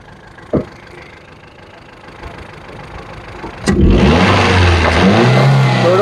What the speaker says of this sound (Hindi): ये जरा एक्सीलेटर मारो अंदर से